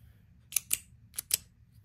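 A Parker Jotter ballpoint pen clicks twice, then twice more, four sharp close clicks in pairs against a quiet background.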